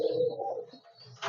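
A tournament pigeon from the Phulshira line gives a brief low coo nearby, with a short burst of rustling at the end.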